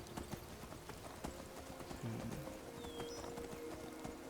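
Horse hooves clip-clop in a steady, moderately quiet rhythm on a steep path in the Skyrim video game, with faint ambient background around them.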